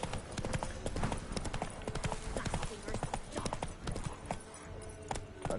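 Horse hooves clip-clop steadily through the open world of The Witcher 3, a brisk rhythmic gallop mixed with game music and ambience while someone talks over it.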